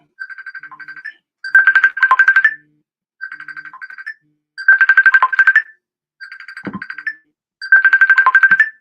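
Several telephones ring in turns, each burst a rapid electronic trill repeated in short groups with brief silences between, some louder and closer than others, alone without talk.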